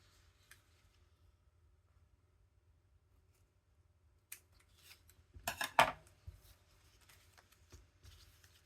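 Scissors snip through a journal page, a short cluster of crisp cuts in the middle after several seconds of near silence, close and fairly quiet, with a few faint taps afterward.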